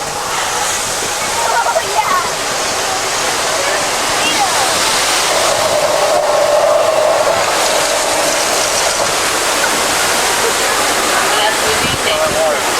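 A staged flash flood on the Universal Studios Hollywood tram tour, where thousands of gallons of recycled water surge down a hill, makes a loud, continuous rushing roar that holds steady for the whole stretch.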